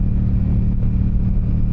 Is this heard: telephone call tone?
no